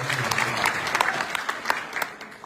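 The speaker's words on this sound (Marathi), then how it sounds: "एकदा टाळ्या आपण त्यांच्यासाठी वाजवल्या" Crowd applause at a farmers' protest rally, a burst of scattered, uneven clapping with some louder individual claps standing out against background noise.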